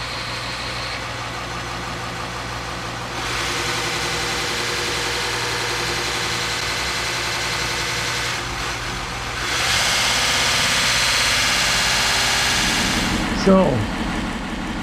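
Variable speed belt-driven machine running with a steady mechanical hum, its pitch rising in stages as the speed is raised, a brief clatter near the end, and a voice speaking briefly.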